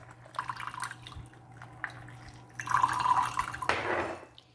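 Coffee poured back through a drip brewer for a second pass, with liquid trickling and dripping steadily, then a brief louder splash of pouring near the end, close and fairly quiet.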